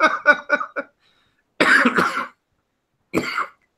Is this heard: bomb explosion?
no